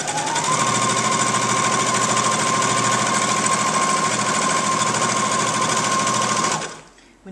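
A sewing machine runs a straight stitch along a party napkin, its steady, loud, fast mechanical whir continuing without a break for about six and a half seconds before it stops abruptly.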